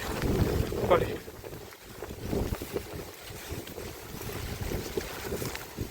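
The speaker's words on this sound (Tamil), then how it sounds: "ஏன்னா காற்று அந்த அளவுக்கு இருக்குது" Strong wind gusts roaring and buffeting the microphone during rain in a Tamil village, a continuous rushing noise with fluctuating bursts and no clear speech.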